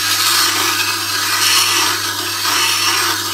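A woodturning chisel held in a jig is ground on a bench grinder, a loud continuous abrasive hiss over the steady hum of the motor, close up with no talking.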